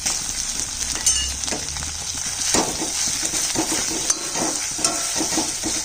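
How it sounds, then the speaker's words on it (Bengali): Tomato and onion sizzle steadily in a hot pan, with occasional stirring scrapes and light clinks of a utensil, close up and without voices. "টমেটো আর পেঁয়াজটা ভাজা হচ্ছে।"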